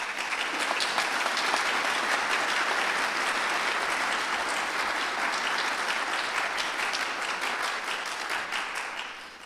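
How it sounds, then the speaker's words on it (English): Sustained applause from a large crowd, dense and steady clapping filling the whole stretch, slowly tapering at the end. "I'd like to give them applause for doing so and for their great patriotism."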